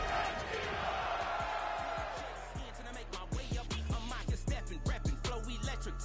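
Stadium crowd in an EA Sports football video game roars in a dense, steady wash of cheering that thins after a few seconds. Sharp rhythmic thumps and hits then punch through the remaining crowd noise.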